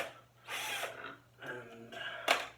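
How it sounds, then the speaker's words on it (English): Screws being worked out of a wooden dining table produce short bursts of whirring, ratcheting tool noise, three separate runs close by with brief pauses between them. "But now we can have a look at trying to take out the screws"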